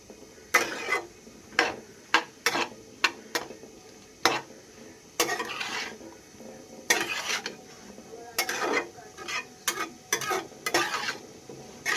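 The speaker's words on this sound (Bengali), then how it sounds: "আমি এটাকে ভালো করে নেড়ে নুন হলুদটা মিশিয়ে দেবো এটার সাথে" Chicken being stirred with salt and turmeric in a pan, a spoon scraping and clinking against the metal in irregular bursts over a soft sizzle, close and moderately loud with no talking.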